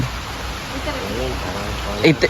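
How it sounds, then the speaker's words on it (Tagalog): Rain falls as a steady, soft hiss at a housing site, while a voice talks over it and a couple of brief, louder sounds come near the end. "umuulan."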